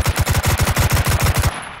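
Automatic gunfire in the video game Last Man Standing: one loud, rapid burst of about a dozen evenly spaced shots that stops abruptly.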